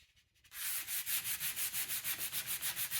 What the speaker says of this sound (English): I've sanded with 220